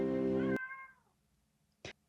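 A cat lets out a single drawn-out meow, clear and close, followed by quiet and a brief knock or click.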